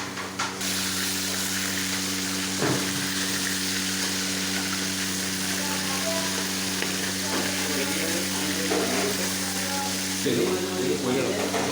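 Food frying in a pan, a steady, even sizzle and hiss running throughout with a low electrical hum underneath and a few soft clatters.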